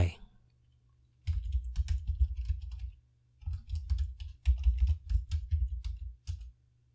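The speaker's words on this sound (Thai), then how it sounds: "เมื่อต้องการจะใส่หมวดหมู่ถัดไปให้เราคลิกมาที่ central topic แล้วก็กดปุ่ม insert" Mouse clicks and keyboard key presses on a computer running Xmind mind-mapping software come in two close, rapid clusters of light tapping separated by a brief pause.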